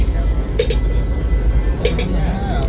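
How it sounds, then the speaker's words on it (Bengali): The 22388 Black Diamond Express, an ICF coach train, pulls out of Panagarh station platform 3: a steady low rumble of the moving carriage, with a few light metallic clinks and a voice talking over it. "পরবর্তী স্টেশন পানাগড় থেকে ট্রেন ছাড়লো আমাদের"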